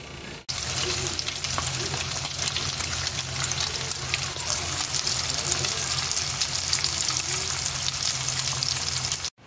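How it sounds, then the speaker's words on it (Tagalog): Tocino boils in a pan of water with a steady, dense bubbling sizzle that continues evenly for several seconds, close and moderately loud with no talking. "Ayan, kumukulo na to."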